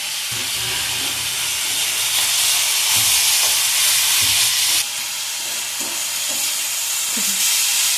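Kaara chutney ingredients sauté in hot oil with chilli powder, salt and curry leaves, giving a continuous loud hissing sizzle with occasional soft stirring knocks throughout.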